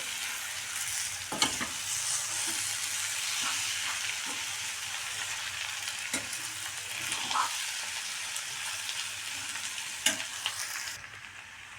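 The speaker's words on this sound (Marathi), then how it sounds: "आता यात बारीक केलेले बटाटे टाकून घेऊया छान असं परतून घ्यायचं आहे" Finely chopped potatoes being sautéed in a pan for a lentil dosa, a continuous soft sizzle with occasional scrapes of a spoon stirring, close and moderately quiet without talk.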